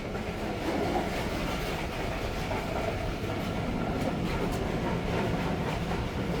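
A 2009-built Pakistan Railways passenger coach from the Islamabad carriage factory rolls steadily along the rails, a continuous loud rumble with faint wheel clatter and no pauses throughout.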